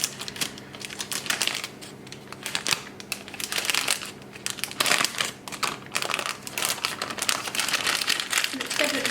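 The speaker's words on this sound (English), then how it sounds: "very carefully squeeze the mixture right down to the bottom of the piping bag so that it's filling the nozzle" A meringue-filled plastic piping bag crinkles and rustles as the mixture is squeezed down toward the nozzle, with irregular crackling bursts throughout and a voice speaking over it.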